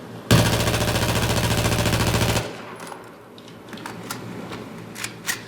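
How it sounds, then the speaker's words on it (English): An automatic gun in the Battlefield 4 video game fires at a wall in one loud, rapid sustained burst of about two seconds, followed by quieter clicks and faint game sounds. "I'm going to go and shoot at the wall again"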